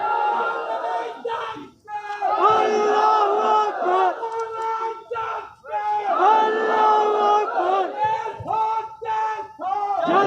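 Crowd at a sit-in protest chanting slogans in loud, rhythmic call-and-response bursts, many voices in unison with brief pauses between phrases.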